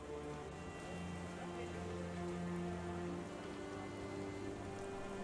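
Steady rain falls on street surfaces outside a flower shop in Sherlock Holmes The Awakened, a dense even hiss with low droning tones underneath, continuous and moderately quiet throughout.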